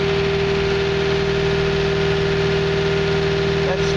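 The diesel engine of a John Deere 650K dozer runs at raised RPM, giving a loud, steady, droning hum with a constant tone, close by.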